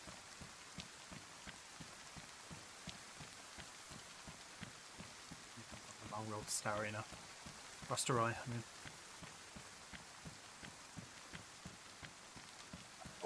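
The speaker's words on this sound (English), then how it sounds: "That's the one thing I love in DayZ is the rain. Like the sound of it." Continuous patter of rain in the survival video game DayZ, a soft steady hiss of drops running throughout while someone talks over it in two short bursts.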